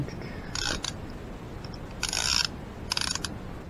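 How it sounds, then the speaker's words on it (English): A ratchet on a long extension turns a coilover adjuster on a BMW 3 Series, giving three short bursts of quiet clicking against a faint background hiss. "So you got your ratchet for like a 8-inch extension."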